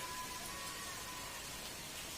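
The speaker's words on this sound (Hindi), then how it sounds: "मुतवस्सित बारिश हो रही है, बहुत ज़्यादा तेज़ है, हल्की हल्की दिखी बूंदाबांदी हो रही है" Light drizzle falls outdoors in a village as a steady, soft hiss of rain with no distinct drops standing out, continuous and fairly faint throughout.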